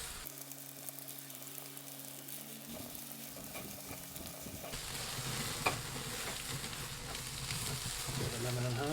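Chicken legs sizzle on a Kamado Joe Big Joe grill as they are basted, a steady frying hiss with faint stirring clatter and low rumble beneath, growing slightly louder toward the end with a brief sharp tick.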